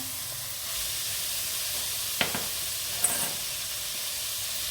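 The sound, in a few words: stir-frying chicken fried rice with sweet corn in pan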